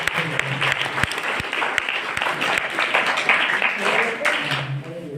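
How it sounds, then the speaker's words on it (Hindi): Children in a school gathering applaud to welcome the principal, a burst of scattered, uneven clapping from a group, mixed with chatter and voices. "एक बार बच्चे तालियों से स्वागत करें"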